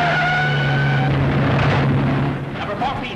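Early racing cars roar around a track at speed, a loud blended engine drone with a steady low hum and a rushing, skidding wash that swells midway and then thins out.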